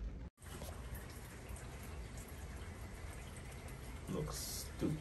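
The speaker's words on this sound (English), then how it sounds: "Very relaxing, listening to the rain." Steady rain falls around a covered porch, a constant broadband hiss with faint drips and a few brief spikes near the end, while people talk quietly underneath.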